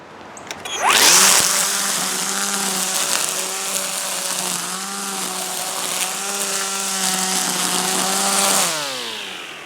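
An EGO 56V cordless string trimmer, model ST1500F, fitted with a new head and fresh line, spins up and whines at a loud, steady high pitch close by, then winds down at the end.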